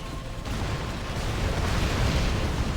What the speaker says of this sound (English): Man, that cannon is just devastating.